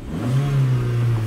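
Car engine revving hard while in neutral, a loud steady roar with a strong low drone that swells and holds, close to the listener with no talking.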